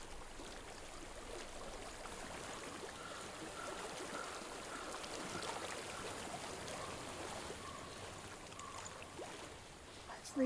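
Flowing stream water in the video game Hellblade, a steady broadband rush and trickle that holds constant throughout at moderate level, with no talk over it.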